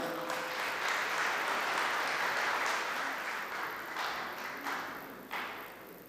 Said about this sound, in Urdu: بھرپور تالیوں میں استقبال کریں